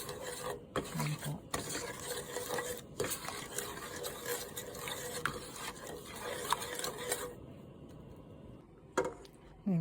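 Chicken pieces being stirred into a honey chicken sauce, giving a steady scraping and rubbing of a utensil against the pan throughout, fairly close, with occasional clinks and a few faint voice sounds.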